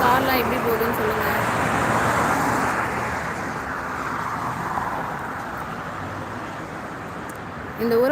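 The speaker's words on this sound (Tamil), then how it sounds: "கார்லாம் எப்படி போகுதுன்னு சொல்லுங்கள்" Cars passing on an American road where horns are not used: a steady wash of tire and engine noise that swells and recedes as vehicles go by, under someone talking.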